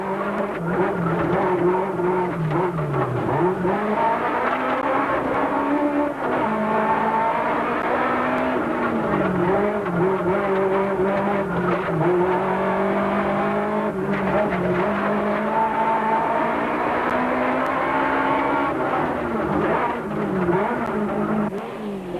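A 1992 Volkswagen rally car heard from inside the cabin on the Algoa Rally, its engine droning and rising and falling steadily through tight twists and bends on a mixed wet and dry mud and dust stage, loud and continuous with no talk.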